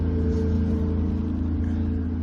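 A boat's inboard engine holds a steady 1500 revs while cruising slowly on the Norfolk Broads, a continuous close low rumbling drone with an even throb and no voices over it.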